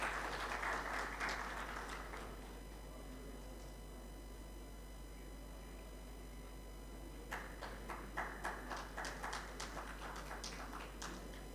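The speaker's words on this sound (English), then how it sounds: "So please have a round of applause for all these people." An audience at an annual technical conference and oil show gives faint applause, a short burst at the start that fades, then a second round of scattered claps near the end over a steady hum.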